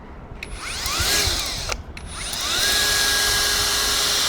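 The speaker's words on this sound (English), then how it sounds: "I'm gonna drill even deeper." A HOTO power drill from a 25-piece tool kit bores deeper into a hole with two close, whining bursts: a short spin-up, a brief pause, then a longer steady whirr.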